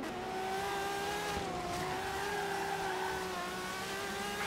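A racing car in the game Forza Horizon 3 accelerates hard, its engine a steady, loud, rising whine with faint tyre noise and no talk.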